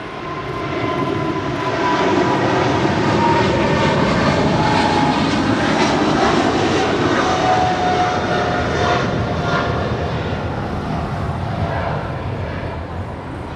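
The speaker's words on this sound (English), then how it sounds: "This is Eva Air Cargo Flight 609 departing to Taipei on a 777 freighter" Eva Air Cargo Boeing 777 freighter departing LAX for Taipei, a loud sustained roar of jet engines building and holding steady, broad and continuous from near to slightly receding, with no other sounds standing out.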